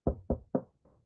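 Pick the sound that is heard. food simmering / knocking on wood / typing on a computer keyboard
knocking on wood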